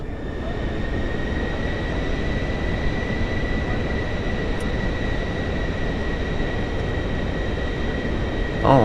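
Pilatus PC-24 business jet taxiing in Microsoft Flight Simulator 2024, a steady loud engine roar with a constant whine on top, unbroken for several seconds with no talk.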